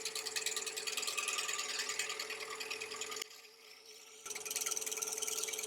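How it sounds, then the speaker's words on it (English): Steady whirring of a new drill bit grinding into a pine cone resin casting on a wood lathe, loud and close, with a brief drop to near silence before the cutting resumes. "It's a new drill bit, so it's cutting really well."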